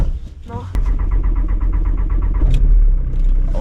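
A car is driving in poor road conditions, its engine rumbling steadily and loud up close inside the vehicle, with people talking over it.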